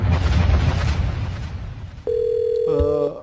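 A Korean phone call being placed to a party spokesperson: a steady dial or ringback tone begins partway through and holds, with a burst of dialing beeps near the end, following a stretch of low background talk.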